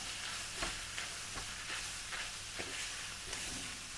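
Spiced beef being stirred in a hot pan, a soft steady sizzle with a few faint scraping strokes of the utensil at a slow, regular pace, close by and with no voices.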